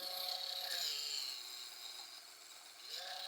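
A Scholl Velvet Smooth Pro electric foot grinder runs at high speed, a faint high whirring buzz that dips and rises as the roller presses against skin.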